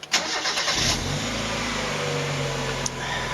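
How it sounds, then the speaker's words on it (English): A Mazda MX-5 engine starts up after a radiator, hose, thermostat and coolant replacement. The starter catches almost at once, and the engine settles into a loud, steady idle that hums close by. "next job is to start her up again"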